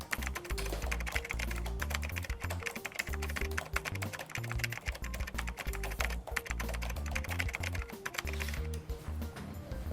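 Fingers type fast on a computer keyboard, a continuous stream of close, crisp key clicks and taps with an irregular rhythm, loud and alone for the whole stretch.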